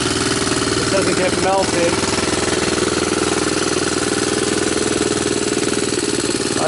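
A Honda TRX200SX ATV engine runs steadily throughout, a loud, close, continuous rumble with a rapid pulsing beat, while a person speaks over it.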